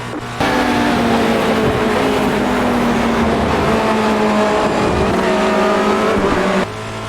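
A Formula Renault 2.0 race car in iRacing at Watkins Glen holds a loud, steady engine drone with rising and falling harmonics as it drives through gears, starting abruptly and cutting off near the end.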